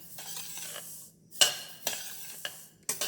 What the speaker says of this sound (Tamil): கல் இல்லாமல் சுத்தமாக இருக்கும் எள்ளு. பாருங்க, இந்த மாதிரி வறுத்துக்கணும்.